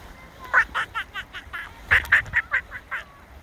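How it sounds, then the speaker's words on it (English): Ducks and geese on a creek after a snowstorm at Pennypack Creek near Fox Chase Farm give a loose run of nasal quacks and honks, clustered in two bursts, fairly close and clear over quiet outdoor background. "More ducks and geese."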